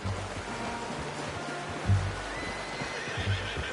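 A horse in the Red Dead Redemption 2 video game snorts and neighs briefly amid a steady ambient rumble of wind and surroundings, with soft hoof shuffles.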